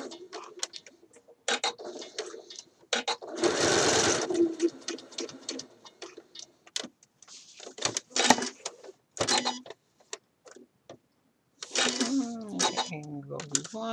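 A sewing machine stitches a shirt dress seam, its rapid mechanical whirring coming in short bursts close by, alternating with someone talking between runs.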